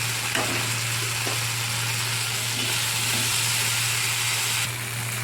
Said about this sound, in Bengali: দেখুন ঢেঁড়সটা আমার ভাজা ভাজা হয়ে এসছে